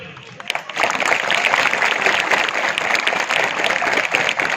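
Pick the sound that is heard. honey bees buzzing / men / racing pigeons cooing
men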